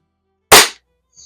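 A single sharp air-rifle shot rings out from a Walnut & Steel airgun fired at a can, a loud crack that decays quickly into silence, with a faint tick near the end.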